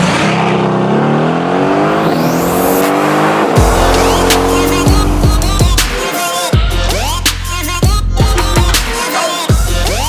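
A 2021 Mercedes-AMG GT Stealth Edition Roadster driving, its engine loud and close, revving up through rising gears with sharp drops between shifts and throaty roars as it accelerates repeatedly.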